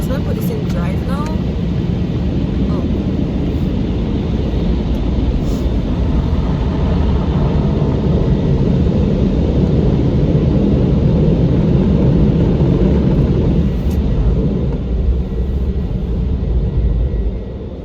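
Steady car engine and road rumble while driving, a continuous loud low drone that holds throughout with little change.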